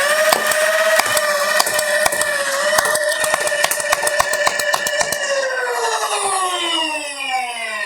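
Nerf Hummingbird solenoid-driven blaster firing foam darts in rapid bursts, sharp repeated clacks over a loud whining motor hum that winds down at the end.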